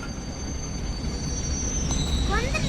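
A train in the game Indian Bikes Driving 3D rolls along with a steady rumble, a faint high squeal from the wheels and a few quick chirps near the end, fairly quiet and steady.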